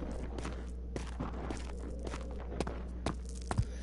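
Footsteps in the horror video game Amnesia, a series of soft, irregular steps over a low steady ambient drone, with a few sharper thuds near the end.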